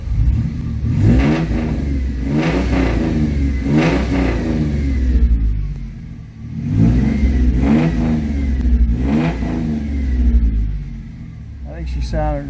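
A 1997 Ford Mustang engine with 142,000 miles revs repeatedly, rising and falling rumbling bursts in a loose rhythm, loud and close, with a brief higher sound at the end.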